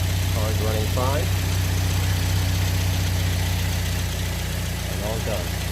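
A Toyota car engine idles smoothly right after a serpentine belt replacement, a steady loud low hum with no squeal, while someone speaks briefly over it.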